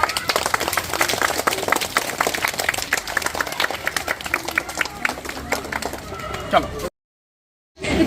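Audience at a school Children's Day event clapping for the children, a dense, steady patter of many hands that runs for several seconds, then cuts briefly to silence before resuming.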